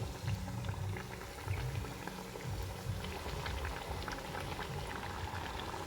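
Puffed snacks made from flattened rice and semolina deep frying in hot oil, giving a steady, close, bubbling sizzle that carries on without pause and with no speech.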